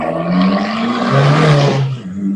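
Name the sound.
hot-rodded Fiat 500 Abarth car driving by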